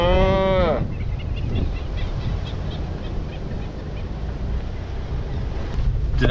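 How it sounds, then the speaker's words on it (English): A cow on an active cattle ranch lets out one loud, close moo at the start. Steady wind rumble follows as the mic is buffeted outdoors, with faint animal sounds further off. "Did I mention this is an active cattle ranch?"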